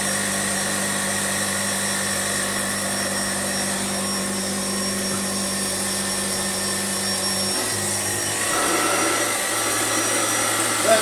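A refurbished Hoover Junior 119 upright vacuum cleaner running over carpet tile: a steady motor whine and hum throughout, with a brief shift in pitch and a rougher brushing rumble toward the end as it moves, alone without talk.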